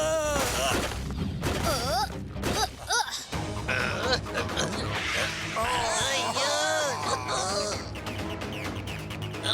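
Cartoon laser guns fire a rapid volley in an animated action scene, dense popping bursts layered under shouting voices and busy music throughout.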